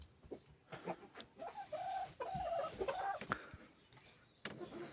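An Adler silver hen clucks in short, soft bursts at close range, with scattered bird calls and faint rustling around it in a quiet yard.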